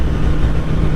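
A 2021 BMW S1000R motorcycle engine holds steady at around 4,000 RPM, giving a loud, close, continuous drone for about a second with no voices.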